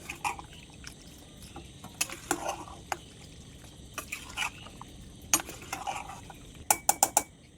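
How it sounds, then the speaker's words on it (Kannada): A spoon stirs fresh coriander and mint leaves through chicken sukka in a pan, with scattered clinks and scrapes against the metal, a few quick taps near the end, close and fairly soft. "ಇದಕ್ಕೆ ಇವಾಗ ಸ್ವಲ್ಪ ಕೊತ್ತಂಬರಿ ಸೊಪ್ಪು ಮತ್ತು ಸ್ವಲ್ಪ ಪುದೀನ ಸೊಪ್ಪು ಹಾಕಿ ಮಿಕ್ಸ್ ಮಾಡಿ"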